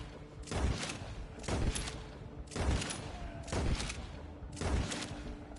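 Gunfire in the video game Red Dead Redemption 2: five heavy, booming shots roughly a second apart, each with a rumbling tail, at a moderate level.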